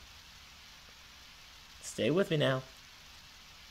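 Steady rain falls in the Undertale video game, a soft, even hiss running throughout while a voice speaks briefly in the middle.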